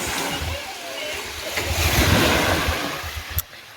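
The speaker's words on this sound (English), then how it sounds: "Can you hear the sounds of the waves?" Ocean waves washing onto a sandy beach at Mama Ngina in Mombasa, a steady rushing surf swelling and receding, with wind buffeting the microphone.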